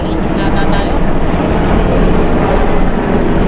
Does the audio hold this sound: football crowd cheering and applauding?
no